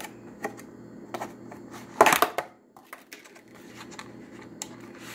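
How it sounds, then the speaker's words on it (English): A knife cuts fresh mango and strawberries on a board in a series of close, sparse taps and clicks, with one louder, crunchy burst of cutting in the middle. "I got my mango right here and my fresh strawberries, and I'm just gonna cut them."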